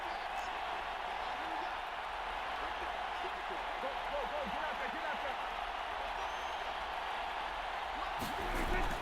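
Stadium crowd in the video game Madden NFL 22, a steady roaring wash of cheering that swells near the end, under continuous commentary.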